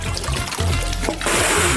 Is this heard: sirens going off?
no